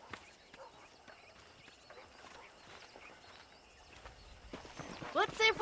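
Horse hooves clip-clop faintly on a ranch in the John Marston western game, a soft irregular patter beneath ambient sound, with a voice breaking in near the end.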